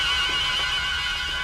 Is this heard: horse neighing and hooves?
yes